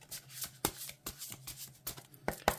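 Glossy oracle cards being shuffled by hand, giving quick, close slapping and sliding flicks in an uneven rhythm, with a faint steady hum underneath.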